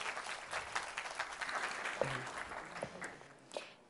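Applause from a Demo Day audience for a presenting startup team, fairly faint and steady, fading near the end, with no speech over it.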